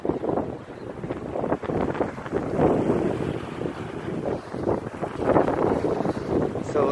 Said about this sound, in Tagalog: Talagang mahangin, guys.